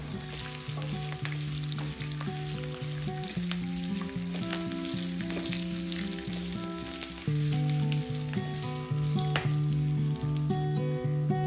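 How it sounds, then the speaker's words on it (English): Chopped dry red chilies sizzle in hot oil for a potato masala dosa filling, a steady crackling fry running throughout under louder background music with no talking. "Now add roughly chopped dry red chilies to add the color to the final masala."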